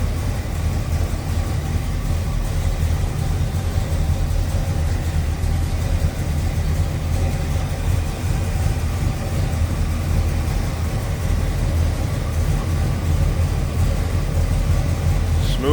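A 1984 Chevrolet Caprice Classic sedan's 350 V8 with headers idles steadily and smoothly, a loud, close, even low rumble throughout with no talking.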